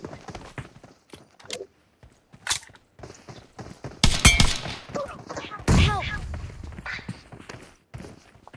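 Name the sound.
gunfire from a video game shooter match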